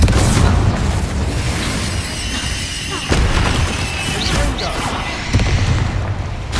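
Rumbling explosive blasts from the Confringo fire spell in the video game Hogwarts Legacy, fought through the Feldcroft Catacomb, set in a dense, continuous wash of noise with sharper bursts breaking through partway along.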